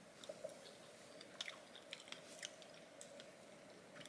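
Strawberries chewed close to the mouth during a taste test, with soft wet squishes and repeated small bites in an irregular rhythm, quiet and without talking.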